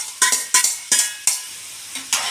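Vegetables for pav bhaji being stirred in a hot frying pan, with a utensil scraping and clacking against the metal in quick bursts over a steady close sizzle.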